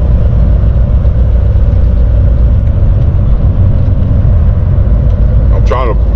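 Steady road traffic on a busy morning outdoors, a continuous low rumble of passing cars that stays loud and even throughout, with a brief higher-pitched squeal near the end.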